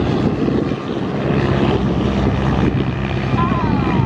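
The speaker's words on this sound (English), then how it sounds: "Look at that knife edge flight." Propeller-driven aerobatic airplane at an outdoor airshow flying knife-edge, its engine a steady, loud drone throughout, with a brief higher whine near the end and crowd or announcer voices faintly underneath.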